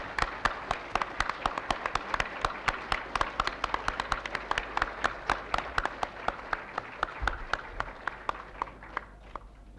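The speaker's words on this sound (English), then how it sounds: "I'm going to clap for the winner" Applause at the 1975 Worldcon Hugo Awards banquet in Australia for an award winner: steady, crisp hand claps from a seated crowd, continuing for about ten seconds before thinning out toward the end.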